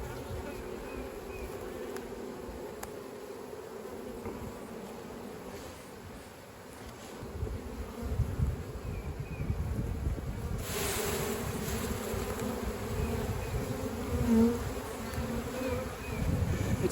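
A steady, dense buzz of many honey bees around a hive hums continuously at close range, growing a little louder and busier partway through, with no voices.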